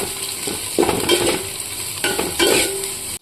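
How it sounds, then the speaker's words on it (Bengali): Bay leaf, whole spices, dried chilli, cumin and chopped onion frying in a pot for biryani, a steady close sizzle broken by a few scraping stirs of a spoon. "তেজপাতা দিলাম, গোটা গরম মশলা, শুকনো লঙ্কা দিলাম, গোটা জিরে। আচ্ছা পেঁয়াজ কুচি দিয়ে দিয়েছি এর মধ্যে।"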